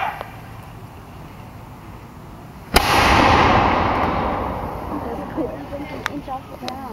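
A historic cannon fires once at the CSS Neuse Historical Site in Kinston, North Carolina, a single sharp, loud blast followed by a long rumbling roll that slowly fades, with people talking faintly in the background.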